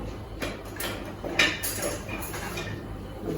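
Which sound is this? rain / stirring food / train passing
stirring food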